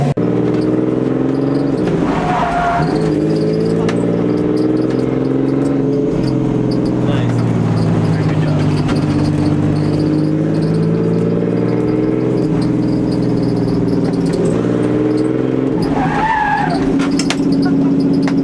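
A Nissan 240SX off-road car's engine roars loudly while its hydraulic handbrake locks the rear wheels and the tires squeal and skid as it slides, with a rising screech near the start and again near the end.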